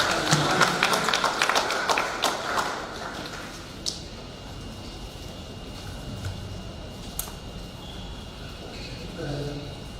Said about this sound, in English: Let's give him a good clap.